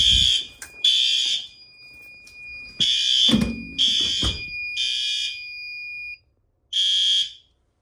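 Fire alarm sounding in bursts during a February fire alarm test, loud repeated tonal blasts with short gaps and a final burst, close by.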